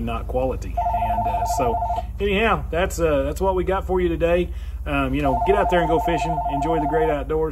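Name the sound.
telephone ringing in the background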